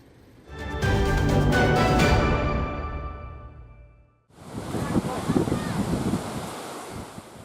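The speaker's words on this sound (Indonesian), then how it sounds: "Ketinggian ombak mencapai lebih dari 2 meter dan terkadang disertai angin kencang dan hujan deras" Heavy surf and strong wind batter the southern Papua coastline in rough weather, with broad roaring waves rising and falling loudly, a brief lull, then another powerful surge of crashing water and gusting wind noise.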